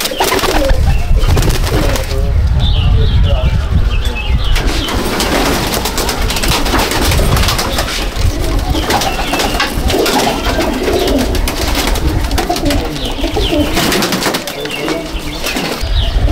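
Pigeons, including Teddy, Golden, Kamagar and Dabwale breeds, coo in repeated low throaty calls close by, with some wing shuffling and someone talking over them.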